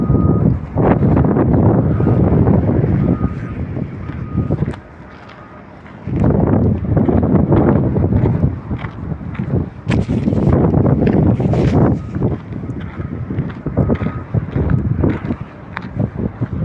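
Strong wind buffeting the microphone in heavy gusts at a construction site, with a brief lull partway through before the rumble returns.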